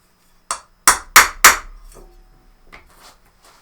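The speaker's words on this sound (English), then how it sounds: "I'm going to use the side of my rubber mallet." A rubber mallet strikes a metal punch four times in quick succession with sharp, ringing knocks while punching holes in cosplay armour, followed by a few lighter, fainter taps.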